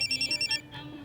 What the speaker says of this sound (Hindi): ये देख मेरा फोन बज रहा है।